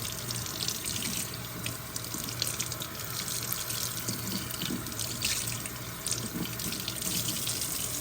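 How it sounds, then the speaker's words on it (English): Tap water running steadily into a sink while embroidered fabric is rinsed by hand, a continuous close splashing hiss with small irregular sloshes throughout. "So basically, rinse your piece of fabric very thoroughly."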